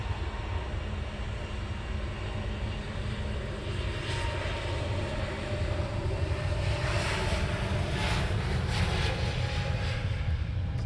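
A fixed-wing airplane departs Luton Airport, its engine roar a broad steady rumble heard from a distance that swells gradually louder over about ten seconds.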